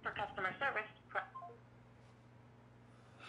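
Telephone keypad tones sound on the Capcom USA phone menu: a few short beeps from a dialed extension follow a recorded voice prompt, then a quiet line hum.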